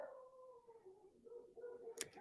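A dog named Roberto Duran gives a faint, drawn-out howl that wavers in pitch across the clip, heard from a distance with a brief clack near the end.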